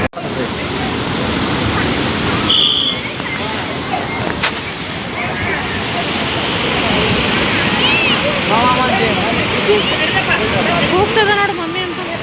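Gaganachukki waterfall roars in a continuous, dense rush of falling water, loud and steady from start to finish, with faint voices of people nearby in the background.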